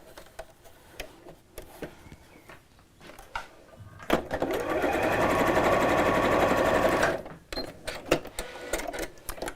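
A sewing machine stitches a small folded fabric hem on a drawstring bag. Scattered clicks and handling noises come first, then a steady whirring run of about three seconds, then more light clicks and taps.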